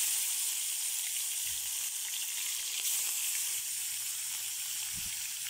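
Fish sizzles steadily in hot oil for a home-cooked Bengali fish curry, a loud, constant frying hiss with faint low knocks now and then and no voices.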